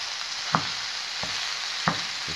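Lean 5% fat minced beef fries in a pan for a spaghetti bolognese, giving a steady close sizzle broken by two sharp knocks of a spoon against the pan, with no voices.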